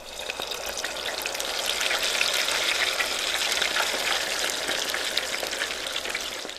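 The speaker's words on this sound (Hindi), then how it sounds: "इनको फ्राई कर लेना है" Chicken teriyaki pieces fry in hot cooking oil with a steady, dense sizzle that swells and holds close and loud, with no talking.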